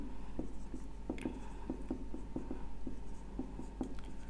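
Marker or pen writing on a board, a series of soft, close scratching strokes in an uneven rhythm, faint over a low steady hum, with no voices.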